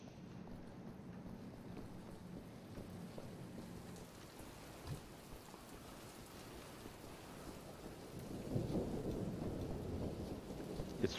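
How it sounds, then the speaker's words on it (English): Steady rain patters throughout while low thunder rumbles, swelling into a louder roll near the end; quiet overall with no voices. Rain and thunder in the video game Wolfenstein: The New Order. "It's raining, which is good for stealth."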